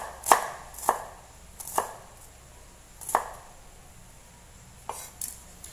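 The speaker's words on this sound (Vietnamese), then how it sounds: "Hành thơm, các bạn sẽ băm ra cho mình chút hành thơm cho cái phần sốt cà" A knife minces shallots on a cutting board for a tomato sauce to go with tofu. About six crisp, separate chops land at an uneven pace, up close, with no talking.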